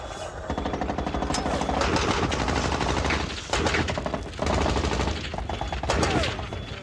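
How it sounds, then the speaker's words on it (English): Gunfire from Afghan National Army soldiers engaging Taliban positions in Afghanistan, with sustained bursts of automatic fire that pause briefly and then resume, loud and close throughout. "The Afghans opened fire on the Taliban positions."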